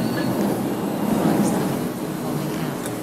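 Train running in the Roblox video game on a city line: a steady rolling rumble with faint clacks and a brief high squeal, sustained throughout at moderate loudness.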